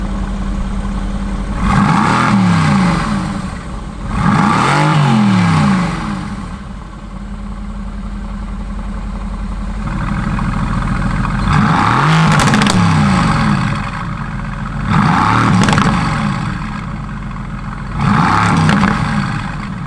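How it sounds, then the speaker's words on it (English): A Mercedes-AMG GT S in sport mode revs hard in five loud bursts, each rising and falling sharply over a steady idle, close and aggressive, with crackles between throttle blips and no talking. "if I turn it to sport mode, yeah, it is ridiculously loud. Yeah, it bangs and stuff."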